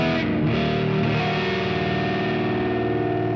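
Electric guitar played through a NUX Verb Core Deluxe reverb pedal, a dense sustained distorted chord that rings out with a smooth wash of reverb, steady and loud throughout with no other sounds.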